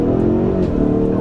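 A Ford Mustang V8 with a 10-speed automatic roars loudly up through first gear under hard throttle, a close, steady, rising engine note with no talking.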